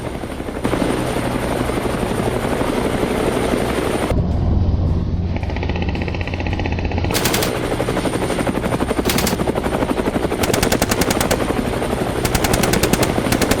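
During a wild boar hunt in Texas, a helicopter's rotor thumps loudly and continuously throughout, with rapid bursts of automatic gunfire cutting in over the drone.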